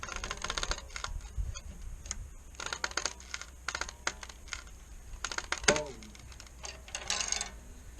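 A gripple tensioning tool ratchets fence wire tight on a hay locker fence, a quick series of light close clicks and ticks in uneven bursts, with scattered soft rattles between them.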